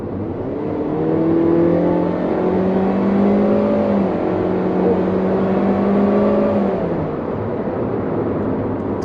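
A Hyundai Creta with a CVT gearbox in sport mode revs under throttle, a loud, steady engine drone heard from inside the car. The pitch climbs smoothly and holds with slight stepped shifts, then eases off toward the end.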